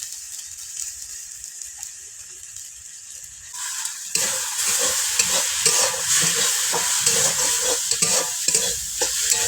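Spices with turmeric powder and salt are stirred in a hot pan for a pointed gourd and prawn curry, soft sizzling at first, then louder frying with repeated spatula scrapes and rhythmic stirring.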